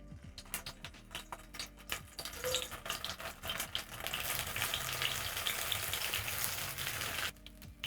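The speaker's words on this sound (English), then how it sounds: "So my oil is super hot. I'm going to add in my sausages." Sausages dropped into very hot oil for curried sausages: a few light clicks and taps at first, then a loud, steady spitting sizzle that swells and holds for several seconds before cutting off abruptly, close up.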